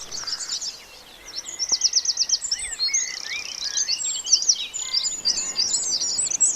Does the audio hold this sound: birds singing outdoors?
yes